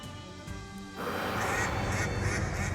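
Large ducks quacking in the video game Shadows over Loathing, inside an icy room: a few honking calls at first, then a denser, louder jumble of quacks over a hissing background.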